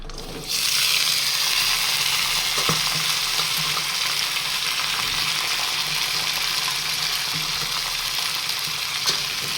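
Potatoes and pointed gourd fry in oil in a kadai with a loud, steady sizzle that starts suddenly and holds evenly, with a few faint clinks of stirring.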